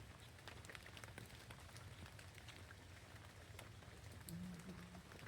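Light rain falling on a nature trail, a faint, soft steady patter with scattered drips throughout.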